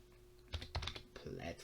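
A few quick taps on a computer keyboard, close and fairly quiet, in a short burst over a low background hum.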